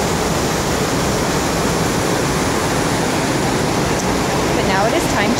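Twister Falls on the Eagle Creek Trail, running with low water in June: a loud, steady, broadband rush of falling water that stays constant throughout.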